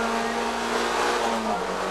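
Toyota MR2 race cars at Donington Park, a steady, loud engine howl held at high revs with a slight drop in pitch as a gear changes, dense track noise throughout.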